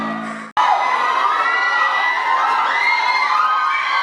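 A concert crowd at an outdoor rookie band show cheers and shouts loudly and continuously after a brief pause, with high-pitched screams and whoops layered over the roar.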